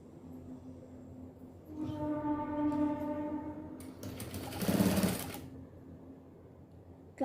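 A sewing machine runs steadily for a few seconds while stitching a miniature doll dress, with a brief louder burst near the end, heard close and alone.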